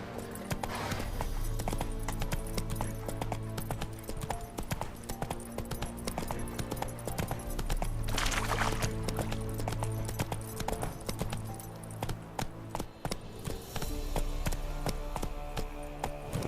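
Roach, a horse in The Witcher III, galloping with a steady rapid clip-clop of hooves, close and continuous alongside game music and ambience, a brief voice heard now and then.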